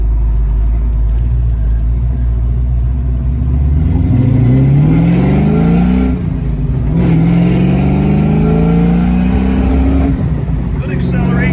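A 1967 Ford Mustang convertible with a 5.0 engine and five-speed manual, accelerating hard through the gears with rising engine pitch and a brief dip between shifts, a loud close rumble throughout.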